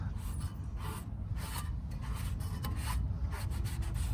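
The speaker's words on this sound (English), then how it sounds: "we're just gonna put it on a bit of rag and just wipe" A rag soaked in brake cleaner is rubbed across a rear brake disc on a Citroen Relay van, producing a steady close-up rasping scrub in quick repeated strokes, with no voices.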